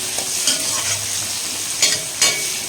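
Small onions sautéing over a high flame, a steady hiss of frying punctuated by a few soft stirring scrapes of a spoon against the pan, close and moderately loud.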